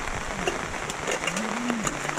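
Heavy downpour in a rural Bulacan riverside setting, a dense continuous hiss of falling rain with scattered sharper drops, steady and close, with faint background sounds beneath.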